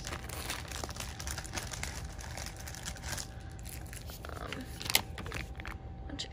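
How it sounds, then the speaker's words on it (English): A plastic package crinkles and rustles continuously up close as photocards are shoved back inside, with soft crackles and one sharper snap near the end. "That's the crinkling noise."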